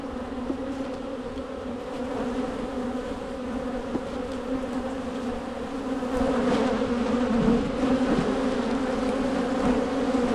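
Honey bees buzz in a steady, dense drone during a hive inspection at an apiary, close and continuous throughout, swelling slightly louder in the second half.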